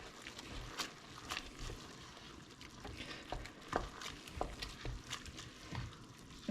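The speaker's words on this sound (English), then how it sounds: "Give that a good stir." A spoon stirs red lentil soup in a pot with lemon juice and salt, giving repeated scraping and knocking strokes against the pot over a soft background sizzle, close and fairly quiet, with no talking.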